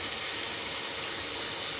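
Ginger-garlic paste hitting a pan of browned onions for chicken kosha gives a loud, unbroken hiss for about two seconds, with no talking.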